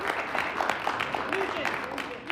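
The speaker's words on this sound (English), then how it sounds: "I think we need to give Alderman Dow, Alderman Haddon, and Alderman Lee a round of applause for pulling off the inevitable." Round of applause in the Chicago city council chamber, scattered claps of moderate loudness mixed with murmuring voices and talk throughout.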